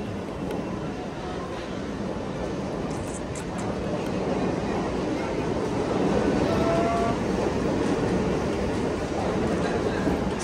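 A fast commuter train in motion, heard from inside as a continuous loud broadband rumble and rush of wind with faint voices blended in, steady throughout.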